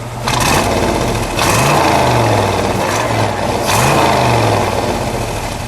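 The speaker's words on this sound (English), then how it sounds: "Go ahead, give it a little rev." A 1958 Chevrolet Corvette's 283 cubic inch V8 revs up sharply three times, throaty, the pitch climbing and dropping between bursts over a steady idle, loud and close.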